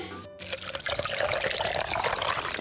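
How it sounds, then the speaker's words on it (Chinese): A drink is poured into a glass, a short gurgling trickle of liquid close by, continuous for a couple of seconds, with faint voices and clinks around it. "再给满上。"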